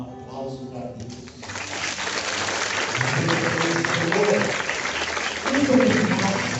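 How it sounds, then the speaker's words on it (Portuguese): A church congregation at a Sunday service applauds, a dense, steady patter of clapping that swells and carries on beneath a voice speaking over it. "Se eu fosse você, eu dava um aplauso para Deus."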